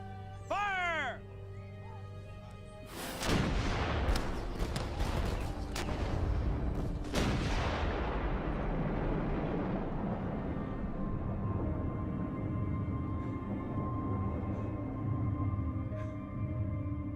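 Artillery cannon firing during a battle reenactment: after a brief shouted command, two deep booming blasts land a few seconds apart, each followed by a long rumbling echo that fades slowly.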